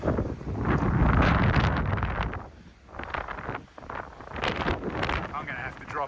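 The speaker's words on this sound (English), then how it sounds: "this is just a bit too windy up here" Hard wind buffets an exposed hilltop on a walking trail, roaring across the microphone in heavy gusts that ease briefly midway before building again.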